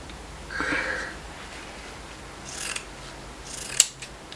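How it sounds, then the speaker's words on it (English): Pinking shears snip through denim from a pair of jeans in a few short, crisp cuts with quiet pauses between them, close and fairly faint, with no talk. "Now, the best thing to use is pinking shears."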